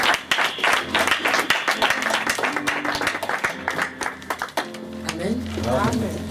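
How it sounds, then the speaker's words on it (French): A church congregation claps steadily to acclaim the Lord at the close of a prayer service, with dense, loud, close applause throughout, voices and cheers mixed in, and sustained tones near the end. "Est-ce que nous pouvons acclamer le Seigneur?"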